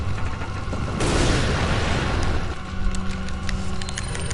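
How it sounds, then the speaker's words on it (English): A frag grenade blows up in Resident Evil 4, a loud boom that rolls on for about a second and a half before fading into lingering crackle and game noise. "immediately just throw a frag"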